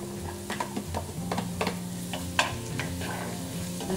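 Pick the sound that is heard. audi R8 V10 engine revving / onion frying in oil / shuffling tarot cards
onion frying in oil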